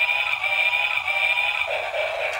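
Toy train running with a steady high electric whine and a continuous motor drone, close and fairly loud, shifting slightly in tone partway through with no talk.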